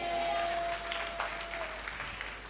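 A congregation at a Sunday church service claps hands, producing a soft, steady patter of applause with a faint tone underneath.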